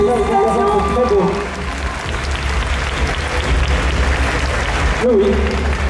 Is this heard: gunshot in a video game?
no